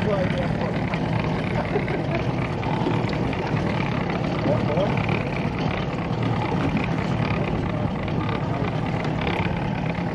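Boat motor running steadily on a river during a fight with a large fish, a continuous loud droning engine noise throughout with people talking over it.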